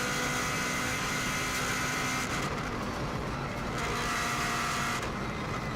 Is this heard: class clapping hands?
no